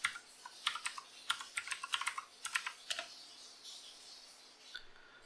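Rapid bursts of keystrokes on a computer keyboard as a password is typed, clustered clicks in the first three seconds, then a quiet pause with one last tap near the end.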